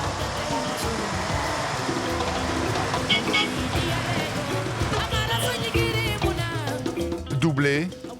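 Overloaded logging truck grinding along a forest track in Gabon, heavy engine drone and rattling load throughout, with horn toots and people talking over the noise.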